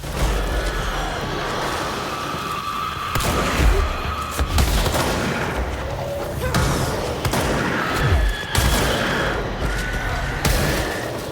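Enemies in a video game explode in a rapid series of loud booming blasts, roughly half a dozen bursts spaced a second or two apart over a constant din of combat noise.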